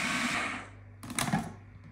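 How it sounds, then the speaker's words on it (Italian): A kitchen blender purées cooked sweet potatoes in a short, fairly faint motor whir that dies away, followed by a brief clatter. "le mettiamo in un frullatore. E ora frulliamo bene le patate"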